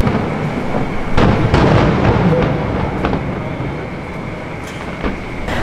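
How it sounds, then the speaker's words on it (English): Loud, broad booms and crackles of fireworks in Waikiki, Hawaii go off repeatedly over a constant roar, with sharp bursts scattered throughout. "we start hearing fireworks go off"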